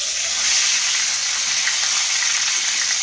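Shoulder roast searing in a hot pan, its fat sizzling in a loud, continuous bright hiss close by, with no voices.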